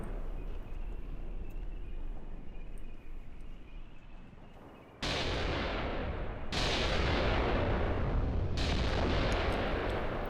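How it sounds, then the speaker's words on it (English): Incoming artillery in the World War II tactics game Graviteam Tactics: a low rumble of distant shelling, then three heavy, loud blasts in quick succession, each trailing off into a long roar, with no talking. "This artillery is coming in."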